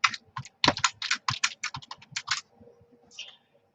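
Rapid clicking keystrokes on a computer keyboard, close and crisp, in an irregular run of taps for about two and a half seconds before trailing off into near quiet with a faint final clatter.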